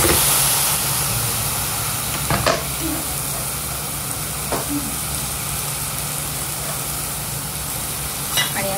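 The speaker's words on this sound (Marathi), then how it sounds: "इथे आपलं कांदा टोमॅटोचं जे मिश्रण आहे ते भाजलं जाते" An onion and tomato mixture for pav bhaji fries in a pan with a steady, even sizzle and a few light clinks of stirring, with no talking.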